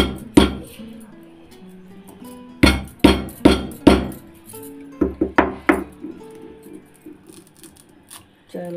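Dry ginger pounded on a stone: a series of sharp, hard knocks and clinks, a single hit, then a quick run of four heavy strikes, then a lighter cluster, close and clear with quiet pauses between.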